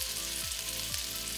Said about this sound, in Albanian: Kurse mishin e pulës do t'a skuqim me pak gjalp që t'marën aromë